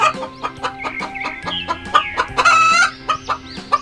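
A hen clucks repeatedly in short, choppy bursts, joined by other chickens, with a brief rising squawk near the end; close and fairly loud, no talking.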